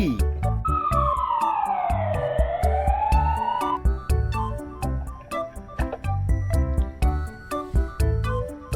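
Toy police car with a wailing siren that sweeps down and back up, set against steady rhythmic music and ticking beats, loud and continuous throughout.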